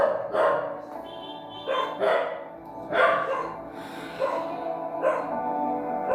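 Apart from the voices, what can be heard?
dogs barking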